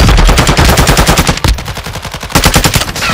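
Rapid automatic gunfire from a combat video game, loud, dense bursts of shots rattling almost continuously with brief dips between volleys.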